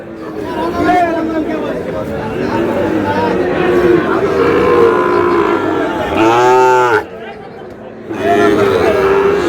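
Sahiwal cattle moo loudly nearby at a livestock market, a long harmonic bellow standing out partway through, with people chattering and milling around throughout.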